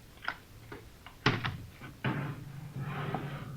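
Wooden closet door creaking and bumping open in an old police radio drama, a few sharp knocks and thuds spaced over a few seconds, fairly close, with a low hum underneath.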